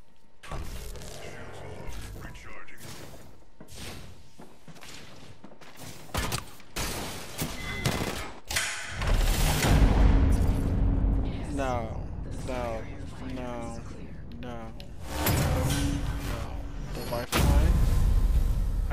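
Bursts of gunfire in Apex Legends, loud volleys of rapid shots and heavy impacts coming in clusters, with a player talking over and between the firing.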